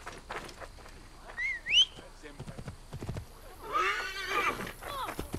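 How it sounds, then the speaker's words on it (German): A horse in Assassin's Creed Origins whinnies twice, a shrill rising neigh followed later by a longer quavering one, with clip-clopping hooves and someone speaking German between them. "So, ein Pferdchen haben wir auch."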